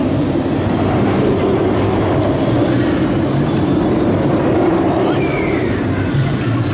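A continuous loud rumble of the Nemesis Inferno roller coaster train running on tracks at Thorpe Park, with steady rolling noise and a brief high squeal partway through, heard from nearby.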